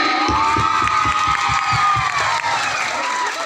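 A large crowd at a Rongali Bihu stage show cheers and claps, loud and continuous, with shouting voices and rhythmic hand claps blending together.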